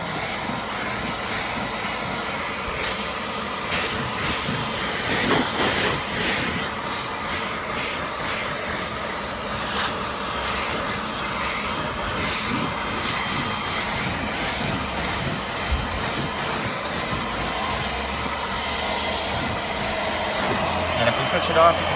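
A Bissell Little Green portable carpet cleaner pulls liquid out of car carpet with a steady, loud, hissing suction roar that runs unbroken throughout.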